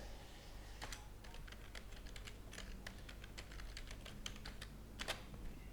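A password typed on a computer keyboard: a steady run of crisp, close key clicks with uneven rhythm over a low background hum, with a couple of heavier keystrokes.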